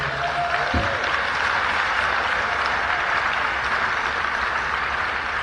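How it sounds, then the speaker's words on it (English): Sustained applause from a conference audience saluting the rapporteurs, a steady dense wash of clapping that holds at an even level throughout. "give a big round of applause up front for our rapporteurs"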